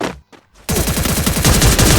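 Rapid automatic gunfire from a shooting video game landing a headshot, a dense rattling burst after a few brief sharp shots, loud and close.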